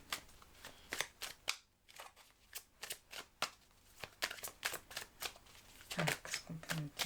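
Tarot cards are shuffled close up in a series of quick, crisp riffling snaps and flicks, repeating in an uneven rhythm, with a soft voice speaking in the background.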